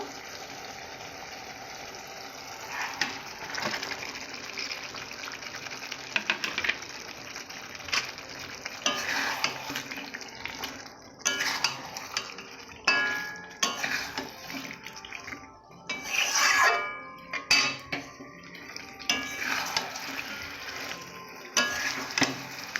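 Cut meat frying and being stirred in a pan, with irregular sizzling bursts and scraping, clattering knocks of a utensil against the pan, fairly quiet and close, no talk.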